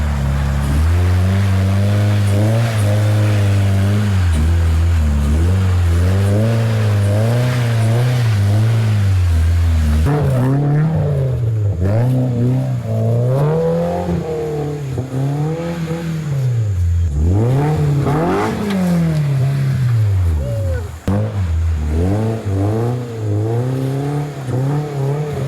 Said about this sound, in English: Second gear pulls are pretty fun.